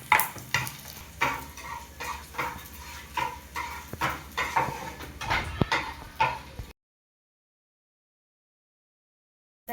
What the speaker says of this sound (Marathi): डिंक चांगला फुलेपर्यंत आपल्याला तळून घ्यायचा आहे